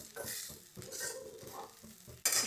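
Food is stirred in a pan on a stove that has just been switched off, rhythmic scraping strokes of a spoon against the pan with a faint sizzle underneath, close and fairly quiet.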